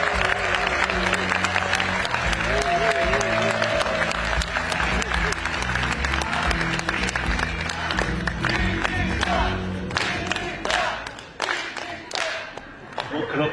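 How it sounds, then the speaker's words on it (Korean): Audience applause and cheering welcoming Korean Prime Minister Kim Min-seok at a public policy briefing event, a steady dense wash of clapping with some voices, thinning toward the end into scattered claps. "김민석 총리님을 큰 박수로 모시겠습니다."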